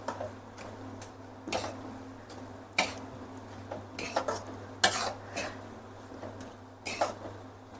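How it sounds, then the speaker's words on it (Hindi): A spoon stirs carrot halwa in a pan, scraping and clinking against the metal in an irregular run of knocks. The strokes are fairly faint and close, with a low steady hum underneath and no talking. "इसलिए इसको बराबर हम चलाते रहेंगे।"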